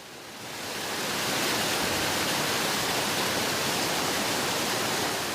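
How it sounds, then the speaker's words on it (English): Small waterfall of glacial meltwater in the Arctic, a broad continuous rushing roar of falling water that swells in the first second and then stays loud and steady, close by. "The reason why I came here to this little waterfall is to get some drinking water for the day."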